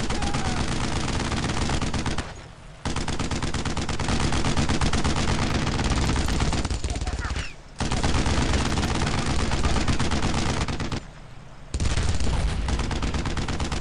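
Dense, continuous World War II battle gunfire in the video game Brothers in Arms: Road to Hill 30, rapid rifle and machine-gun fire rattling almost without pause, broken by a few short lulls.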